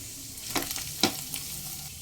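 Ginger and spices sauté in a pan over a medium flame, giving a soft continuous sizzle with a few scraping stir strokes and one brief sharp clink, close and fairly quiet.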